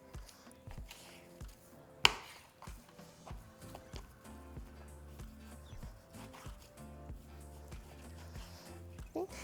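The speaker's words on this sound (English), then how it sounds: "you just want to cut it into large chunks" A knife cuts pork into large chunks for carnitas on a cutting board, producing irregular soft thuds and chops, with one sharper knock, under quiet background music.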